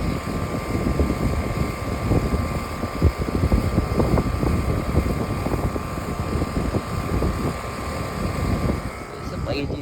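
An unusually large air conditioner runs loudly with a steady, dense mechanical whir and a thin constant hum, unbroken for the whole stretch.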